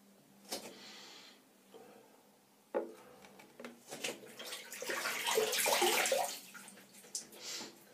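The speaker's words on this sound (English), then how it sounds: "There we are, a drop of water on my face." Water splashed by hand onto the face during a wet shave at a sink, quiet scattered drips and knocks building to a brief wet splashing burst, close and soft, no speech.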